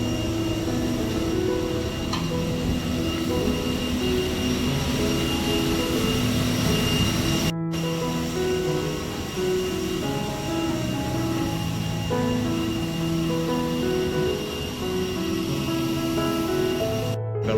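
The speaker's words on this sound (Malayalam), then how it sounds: "ഫ്ലൈറ്റ് അവിടുന്ന് ടേക്ക് ഓഫിന് പോയിക്കൊണ്ടിരിക്കുക" A jet airliner taxis toward takeoff at an airport, its engines a loud, continuous droning whine that holds steady, briefly cutting out once before resuming.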